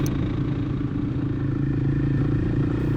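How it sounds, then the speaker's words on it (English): A lightweight adventure motorcycle trail riding, its engine droning steadily and loudly with a low rumbling tone and faint clatter throughout, no talking. "when you're trail riding like this and you're looking for a lightweight adventure bike"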